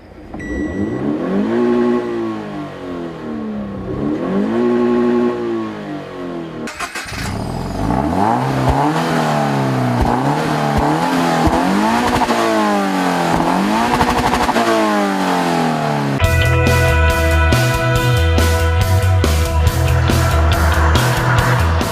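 A Scion tC's 2.5-liter four-cylinder engine, the same unit used in the Camry, revs repeatedly up and down in close, loud sweeping bursts, then settles into a faster rhythmic pulsing at the end.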